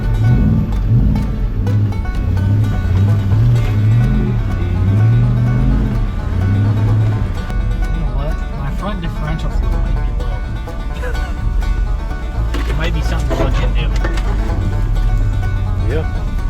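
A 5.0-swapped Ford Ranger truck revs its engine while driving off-road, a low droning note that rises and falls with the throttle. Wind and rough rumble sit over it, and voices can be heard faintly.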